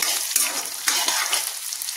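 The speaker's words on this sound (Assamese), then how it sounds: "পিঁয়াজখিনি ভাজি লৈছো আৰু ইয়াতে সয়াবিন দি দিছো গোটেইখিনি মই তেলতে ভাজি লওঁ" Onions and soybean chunks frying in oil, a bright continuous sizzle with several sharper stirring scrapes, close and fairly loud, no talking.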